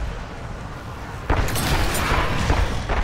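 Explosions hit zombies in Call of Duty Warzone zombies mode: a sudden heavy boom lands mid-clip and is followed by rumbling blasts over a low game-ambience bed.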